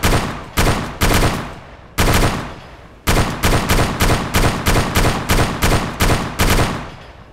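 Loud, close gunfire in the DayZ Origins video game: roughly twenty sharp shots fired in quick bursts, a few spaced rounds first and then a rapid rhythmic run, each crack ringing off in a short echo.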